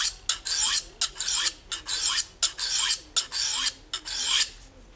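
Knife edge being sharpened on an Atoma 400 grit diamond stone, with about ten rhythmic raspy strokes, each a bright scraping pass with brief pauses between them, close and fairly loud with no talking.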